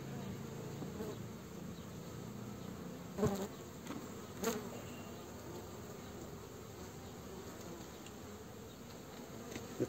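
Honeybees buzzing steadily in an opened Langstroth hive during a frame transfer, a close, continuous drone with a couple of brief knocks, no talking.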